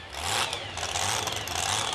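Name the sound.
Dodge monster truck with Keith Black Hemi engine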